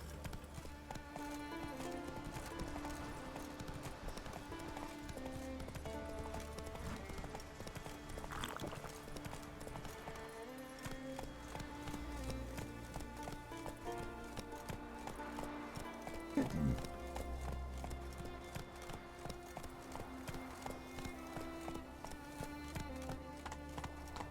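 Roach the horse's hooves clip-clop steadily along a road in The Witcher 3, a continuous trotting rhythm close by, set over a layered game music bed with occasional voices.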